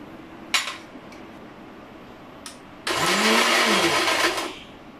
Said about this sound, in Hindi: मिक्सर जार को तकरीबन मैंने 3 मिनट चलाया है